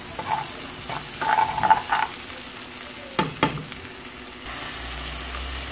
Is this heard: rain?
no